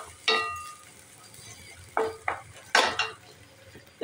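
Onion from a spring onion is stirred and sautéed in a pan for gobi manchurian; a few sharp scraping clinks of a utensil against the pan come in short bursts over a quiet background sizzle.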